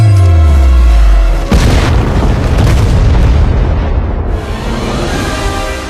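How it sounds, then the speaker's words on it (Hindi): Grenade explosions hit an enemy machine gun post in an Indian Army war film, opening with a deep booming blast and then a sustained roaring rumble that slowly fades, very loud and close. "2 हथगोले LMG पोस्ट को निशाना बना उछाल दिए"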